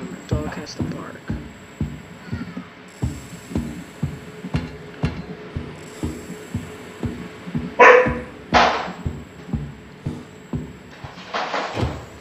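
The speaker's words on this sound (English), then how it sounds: "This is the moment when the dog has to bark." A dog barks a few sharp times in the horror video game Monstrum, the barks standing out midway over a steady run of rhythmic thumping pulses.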